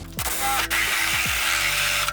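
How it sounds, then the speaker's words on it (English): A power drill bores through foam inside a jon boat, its motor whining up and slowing in short bursts at close range, with no talk. "drilling through the foam before I do the rest."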